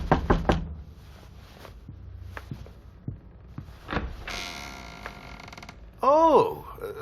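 Knocking on a door: a few sharp raps near the start, then scattered thuds and creaks, followed by a brief rising, whining sound near the end.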